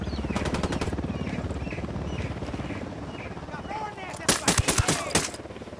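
Automatic gunfire in the video game Ghost Recon Wildlands, rapid loud bursts at the start and again near the end, separated by a stretch of lower game ambience and engine hum.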